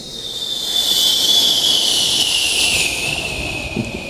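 A voice imitates a jet engine, a steady high-pitched whine and roar rising slightly and then easing off over about four seconds, close and alone without other talk.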